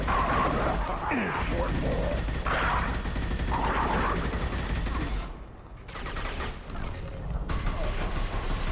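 Shotgun blasts from a Krogan enemy in the video game Mass Effect 2 boom through loud, chaotic combat noise, with several heavy bursts, impacts and mechanical clatter piling up over a few seconds.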